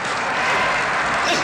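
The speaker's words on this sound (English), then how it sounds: "all those wonderful crowd sounds were used, were original soundtracks" Dense, roaring crowd noise fills the air at a grand champion sumo bout, a broad wash of cheering and applause sustained at steady loudness with no single voice standing out.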